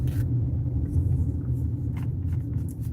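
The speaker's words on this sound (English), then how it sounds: "I think the car sounds normal. It definitely sounds better since the oil." Car engine rumbling steadily while driving after an oil change, a low continuous drone with road noise and no voices.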